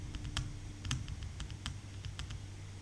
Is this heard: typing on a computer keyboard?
yes